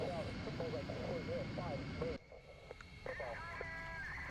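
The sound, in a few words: aircraft engine in Worlds at War VR video game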